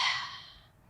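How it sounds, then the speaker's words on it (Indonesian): A person lying supine on a mat sets up a pelvic curl exercise and takes one deep, audible breath, a close airy rush that fades out over about a second, with no talk. "Tarik napas."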